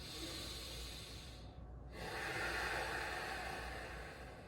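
Deep, slow yoga breathing during a yin yoga session, a long hissing exhale with a brief quiet gap before the next breath draws in, close and steady with no talking.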